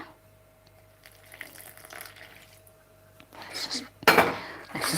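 Water pours from a tap into a bowl while bread dough is being made, following quiet clinks of dishes and utensils, with a louder splash near the end.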